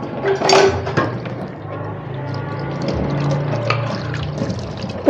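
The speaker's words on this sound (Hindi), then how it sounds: "तो मैंने कहा कुछ बर्तन भी धो लेती हूँ" Dishes are washed under water running from a rooftop tank, a steady splashing stream with clinks of utensils, close and moderately loud throughout.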